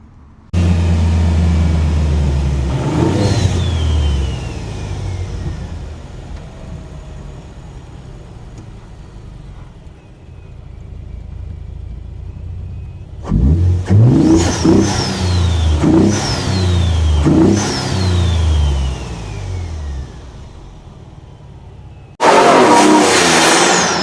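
A fake Shelby Raptor pickup truck drives and revs its engine in repeated loud bursts, rising pitch sweeps with each rev, ending in a sharp roar.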